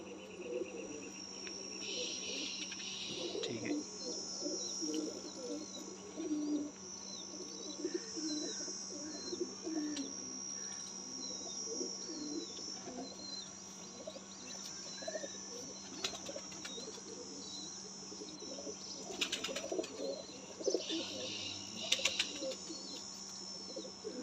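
Pigeons in a breeder's loft coo softly amid a constant chorus of chirping crickets and occasional bird tweets. The sound is fairly quiet and steady, with no speech.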